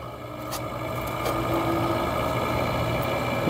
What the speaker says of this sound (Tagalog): Umaandar na yung ating window type.